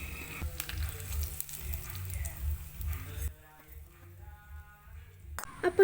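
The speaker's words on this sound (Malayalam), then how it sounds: "ഇനി കുറച്ച് കറിവേപ്പിലയും കൂടി ഇട്ട് ഇത് നമുക്കങ്ങ് കറിയിലേക്ക് ഒഴിച്ചു കൊടുക്കാം." Hot coconut oil with mustard seeds, fenugreek and curry leaves hits a prawn theeyal curry with a bright burst of sizzling that fades to a quieter hiss about halfway through, a voice speaking faintly underneath.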